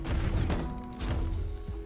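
Rapid combo attacks from the character Lin Fei wielding a cannon in the fighting game Brawlhalla, a dense burst of booming, gunfire-like impacts and game effects running continuously for about two seconds.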